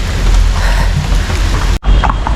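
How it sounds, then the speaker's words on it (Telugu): Rain pours steadily at Matheran hill station in Maharashtra, a loud, dense hiss that cuts out for a split second before resuming. "వర్షం స్టార్ట్ అయిపోయింది."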